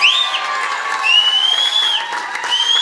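A studio audience at a football variety show cheers and applauds loudly for a contestant, with whoops and high shouts rising over steady crowd noise throughout.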